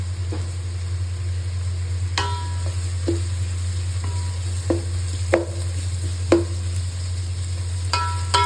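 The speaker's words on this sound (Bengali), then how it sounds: "পেঁয়াজটাকে একটু হাই ফ্লেমে নাড়তে হবে।" Onions frying on a high flame for chicken biryani while being stirred, with scattered clinks and scrapes of a spoon against the pan over a steady hiss and a low constant hum, close, with no talking.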